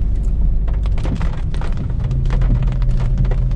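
Rain pours steadily onto a steep, rough mountain road in Tenerife's Anaga mountains near Chamorga, where wet rocks and stones are falling; a loud, dense, continuous patter fills the whole stretch alone, with a low rumble underneath.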